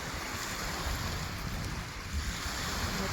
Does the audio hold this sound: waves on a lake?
yes